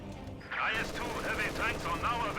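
Mortar and gunfire bombardment around a half-track in a strategy video game, repeated bursts of explosive fire starting after a quiet half second and continuing under a voice talking over the action.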